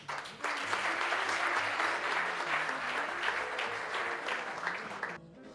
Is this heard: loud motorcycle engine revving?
no